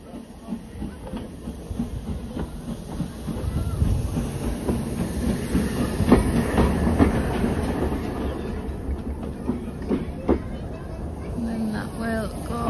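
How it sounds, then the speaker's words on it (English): A steam train at a heritage railway museum rumbles past on the track with rhythmic clacking and a steady hiss, growing louder toward the middle, with voices talking over it. "The engine is coming back this way."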